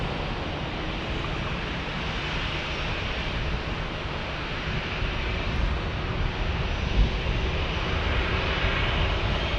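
Southwest Airlines Boeing 737 MAX 8 jet passing at San Diego airport, a steady broad engine roar that swells slightly toward the end, continuous and unbroken with no voices.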